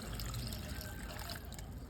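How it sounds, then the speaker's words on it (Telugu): Water poured from a pot into a pressure cooker holding green chili dal ingredients: a steady, close splashing trickle that runs without pause for about two seconds. "ఒక చెంబు నిండా నీళ్ళు తీసుకొని వేసుకుంటుండా"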